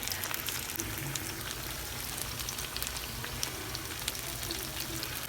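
Jamaican saltfish fritters fry in a pan of oil, giving a dense, even crackling sizzle like rain on a surface, close and steady throughout with no talk.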